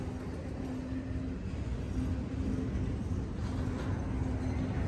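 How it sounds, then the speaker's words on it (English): A cargo train rolls backwards through a downtown Los Angeles rail area, giving a continuous heavy rumble with a steady low hum, moderately loud and unbroken. "Oh, the train is coming backwards"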